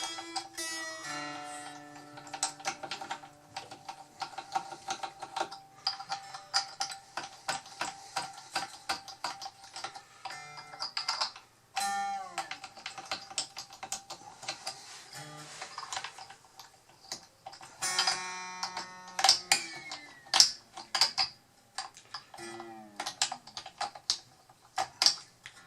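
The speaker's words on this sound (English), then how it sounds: "I'm going to use my little string winder to aid with this" A small hand-cranked string winder unwinds old guitar strings in a run of quick, light, close-up ticking clicks, stopping and starting in uneven bursts with no talking.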